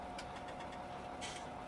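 An 8530 tractor engine idles steadily in Farming Simulator 17, a constant mid-low drone with faint rattling ticks and no speech.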